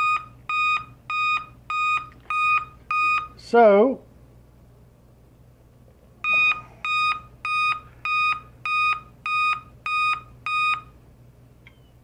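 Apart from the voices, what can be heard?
laptop POST error beeps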